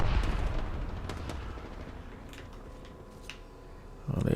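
Rifle fire from a G7 Scout in the video game Apex Legends: a few sharp, spaced single shots at moderate distance over a low, busy in-game background rumble.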